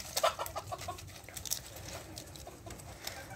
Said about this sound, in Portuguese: As galinhas estão ali, ó.